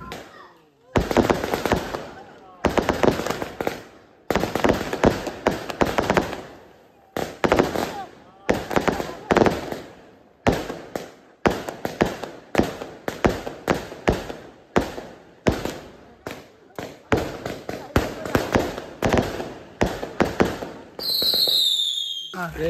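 Firecrackers popping in rapid crackling bursts during Hari Raya celebrations in Malaysia, loud and near, with repeated volleys separated by brief pauses and a whistling rocket near the end.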